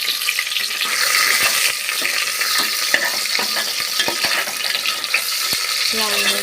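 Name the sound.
onions frying in hot oil with bay leaves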